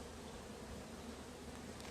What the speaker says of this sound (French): il y a énormément d'abeilles qui volent